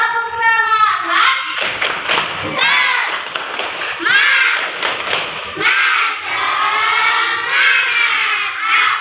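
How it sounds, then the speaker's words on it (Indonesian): A primary-school class of fourth graders does a rhythmic spirit clap together, a steady patterned beat of many hands mixed with children's chanting voices, loud and close throughout. "lebih baik kita tepuk semangat dulu"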